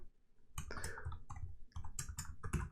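Quick bursts of clicky keystrokes on a computer keyboard, typed close and fairly quiet in an irregular rhythm with short pauses, with no talking.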